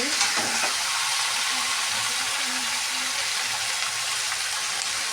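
Chicken pieces sizzle and fry in a pan over charcoal, a dense continuous hiss with soft stirring scrapes near the start, close and steady with no talk.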